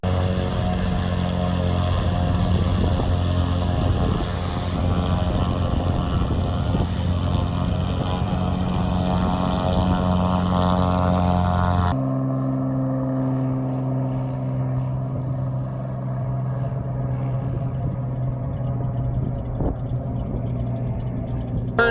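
A light aircraft engine drones steadily at Lake Hood seaplane base in Anchorage, Alaska, a loud, continuous propeller hum that shifts abruptly midway to a lower, smoother tone.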